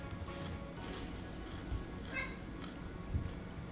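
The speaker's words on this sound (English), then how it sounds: "My cats are fighting." House cats fight in the background, with short, faint yowls and meows breaking through a quiet, steady room tone.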